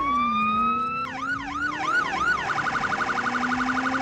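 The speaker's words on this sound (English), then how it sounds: "along with your new police lights and sirens" A police car siren sounds loud and close, starting with a steady tone, then wailing up and down before switching to a rapid yelping pattern.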